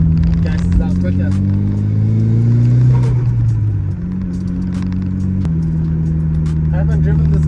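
Mitsubishi Evo 9 wagon with a Hypertune manifold, Invidia dump pipe and new downpipe exhaust, its engine held at a raised idle and then blipped in short revs, a close, steady rumble running throughout.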